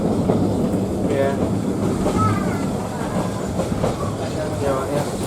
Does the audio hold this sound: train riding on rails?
yes